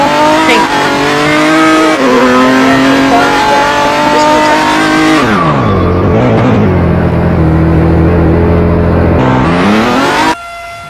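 A car drifting in the mobile game Car Driving Simulator: a loud engine revving and dropping in pitch, with tire squeal running over it, then a sudden cut near the end.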